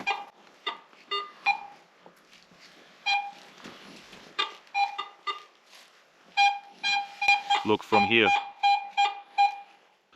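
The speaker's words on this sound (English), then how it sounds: "the detector also beeps really well because it detects that it's something round, big, and made of aluminum" A metal detector gives off a series of repeated tonal beeps, some short and some drawn out, while a person talks over them.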